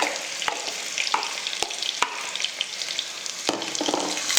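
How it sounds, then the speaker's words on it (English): Finely chopped onions frying in melted butter ghee in a pot, a bright continuous sizzle close by with several sharp clicks and spoon taps against the pot spread through. "Wait for the butter ghee to melt and then add in 2 medium-sized onions that were finely chopped"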